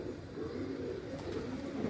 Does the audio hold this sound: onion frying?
no